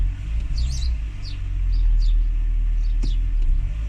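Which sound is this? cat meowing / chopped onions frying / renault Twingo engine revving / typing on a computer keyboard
renault Twingo engine revving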